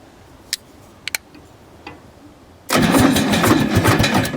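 An abandoned Michigan loader engine cranks: a few faint isolated ticks and clicks, then a sudden loud, continuous rough churning as the starter turns the engine over, close and steady without catching.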